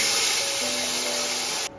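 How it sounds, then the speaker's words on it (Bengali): Water is poured into a hot pan of fried rice, raising a loud, steady steaming hiss and sizzle that cuts off abruptly near the end. "পরিমাণ মতন জল দিয়ে দিলাম।"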